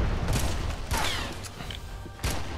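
Grenade blasts and gunfire in the Red Faction video game: a few heavy broadband bursts and thuds, with one loud explosion near the end, over a constant low game rumble.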